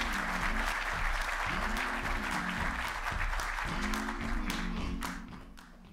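A keynote audience at a summit welcomes speaker Jihan Wu with loud, dense applause that holds steady before easing off at the very end.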